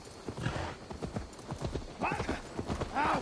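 Horse hooves clip-clop in a steady walking rhythm in Assassin's Creed Valhalla, close and clear, with a couple of short whinnies and other game sounds around them and speech mixed in.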